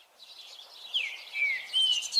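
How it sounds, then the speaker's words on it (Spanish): A small songbird in a forest sings a clear, high trill of quick chirping notes that rise and fall in short bursts, heard alone against a quiet background. "De pronto escuchó a lo lejos una melodía hipnótica, un trino como jamás había escuchado otro igual."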